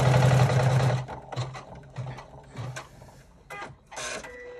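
An embroidery machine top stitching a double zipper clutch runs in a loud mechanical burst, then stitches in short stuttering pulses with brief pauses and clicks.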